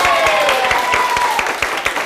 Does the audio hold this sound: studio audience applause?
yes